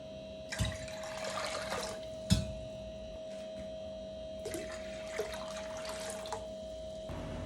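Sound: water being prepared for boiling cabbage

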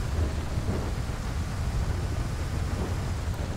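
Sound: rain and thunder heard from inside a KSRTC AC bus

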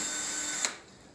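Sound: drilling a hole for Railblaza StarPort HD

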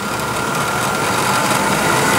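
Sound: milling machine spindle running at full speed

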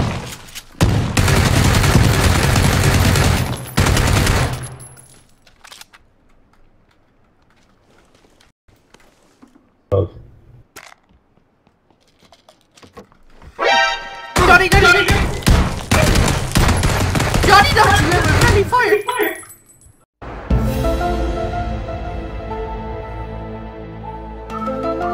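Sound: gunfire from a video game gun

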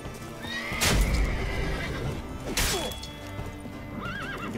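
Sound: Roach the horse neighing in the video game Witcher 3

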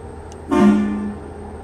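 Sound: truck horn honking in video game

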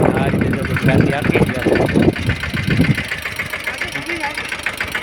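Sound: Yuvraj tractor engine working in pigeon pea field

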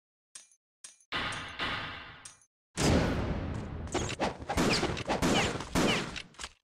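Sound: enemy gunfire in video game Ninja Gaiden Sigma

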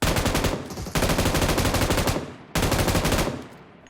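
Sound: gunfire in video game PUBG Mobile

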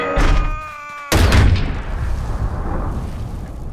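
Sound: boom cannon attack in video game

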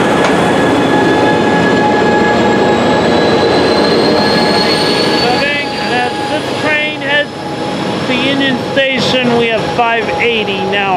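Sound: train passing, wheels squealing

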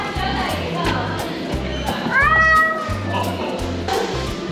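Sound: cat meowing

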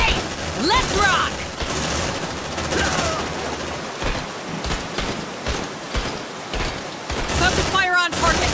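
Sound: gunfire in the video game Aliens: Dark Descent

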